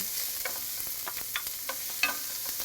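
Diced onion sizzles in a pan of hot olive oil, a soft, even crackle with scattered small pops and stirring clicks, close but fairly quiet.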